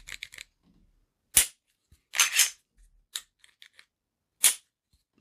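Crisp dry-fire clicks from the trigger of a Smith & Wesson M&P 2.0 Metal pistol, several short separate snaps spaced by silence, close and clean with light handling noise between.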